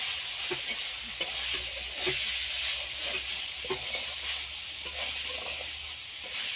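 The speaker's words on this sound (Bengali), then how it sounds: "এবার ভেজে রাখা গেঁড়িগুলো দিয়ে দেবো দিয়ে হালকা নেড়ে নেব" Fried snails are tossed into a pan of cooked masala and stirred lightly, giving soft scraping and tapping strokes over a low, steady sizzle and hiss.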